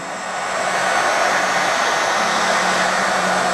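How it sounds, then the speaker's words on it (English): A heat gun set to low heat, used to soften a snowshoe binding for repair, blows a steady, close airy roar with no voices over it. "I have the heat gun on the low heat setting."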